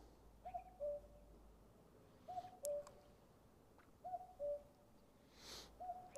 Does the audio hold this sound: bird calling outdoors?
yes